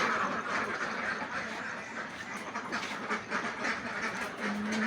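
Many laying ducks on a farm of about 700 quack together in a loud, continuous overlapping chorus, close by, with no talking.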